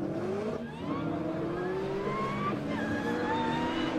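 Nissan drift car leading off on its first run at a Croix-en-Ternois drift round, the engine revving and rising in pitch through the gears with tire squeal, heard from trackside at moderate distance.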